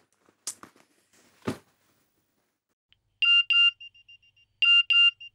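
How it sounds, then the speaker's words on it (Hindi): A phone message notification tone sounds after a few rustling thuds: two bursts of bright, repeated electronic beeps, clear and close, separated by a pause of silence. "तेरा मैसेज आया देख"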